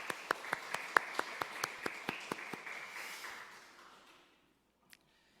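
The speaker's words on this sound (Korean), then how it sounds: "우리 축복하는 박수 한 번 더 하도록 하겠습니다" A church congregation at a Wednesday service claps in a slow, even rhythm. About a dozen distinct, reverberant beats are heard, softly and at a distance, before the sound dies into near silence with one last isolated tap.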